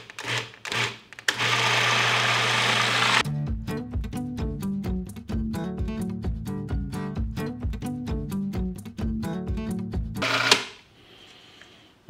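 A food processor blends a cottage cheese ice cream mixture, running loudly as a steady whir and then chopping in rapid, rhythmic pulses before the motor winds down and stops.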